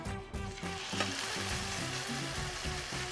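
Thin-sliced steak laid into hot oil in a pan, with a loud, continuous close sizzle and spitting throughout, while tonal background music plays along.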